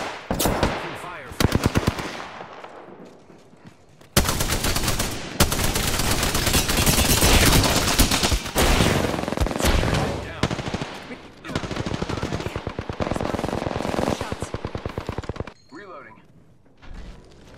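Sustained automatic gunfire from the video game Apex Legends, loud and close, with rapid bursts that briefly pause and resume across the stretch, mixed with clipped game voice lines.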